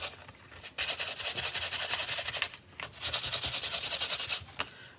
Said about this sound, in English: So we're gonna bring in that sanding block again.